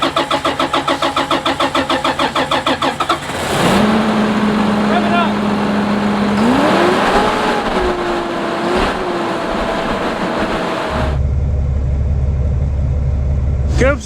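A vehicle engine turning over and catching, then running at a steady idle after the key is turned, with a rhythmic cranking burst at first and a drop to a low rumble near the end; no speech.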